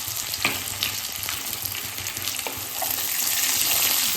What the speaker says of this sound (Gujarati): લસણનો કલર અને સિંગદાણાનો કલર થોડો ચેન્જ થાય ત્યાં સુધી આપણે એને સાતરી લઈશું.